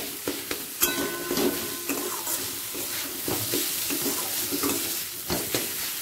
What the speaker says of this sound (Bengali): সব মশলা ভালো করে কষিয়ে নেব।